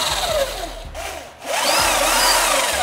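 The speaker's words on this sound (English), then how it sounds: "We have the drill." Power tool whirring while building a basketball court, with buzzy, grinding bursts that rise and fall across a few seconds, briefly dipping before resuming; close and fairly loud with no talk.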